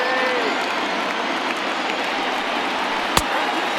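A dense, steady roar of a large stadium crowd in the MLB The Show 20 baseball game, over 38,000 fans on their feet cheering and clapping continuously, with a faint commentator voice underneath.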